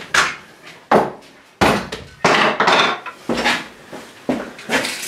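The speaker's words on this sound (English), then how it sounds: "step one is get the hammers, the sheet metal, and start beating the shape out" Hammers beat sheet metal cut from the side of a coach, a series of loud, sharp ringing metallic blows at an irregular pace, each with a short clanging decay, with no talking.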